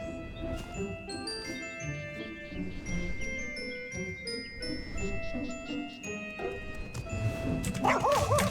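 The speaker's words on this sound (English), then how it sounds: "A dog." A dog barks and yips repeatedly in Final Fantasy XIV, layered over busy game music and ambient sound, with a whimpering, jingling flurry near the end.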